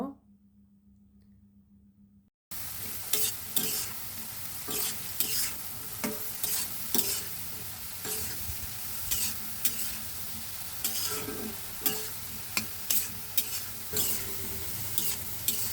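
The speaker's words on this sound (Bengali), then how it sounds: "তারপর আমি আলুটা আমি ভালোভাবে ভেজে নিব" After a quiet hum, a steady sizzle of potatoes frying in oil begins, punctuated by regular scraping knocks of a spatula stirring the pan.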